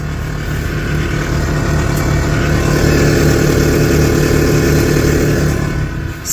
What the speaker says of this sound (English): The compressors are very loud inside the car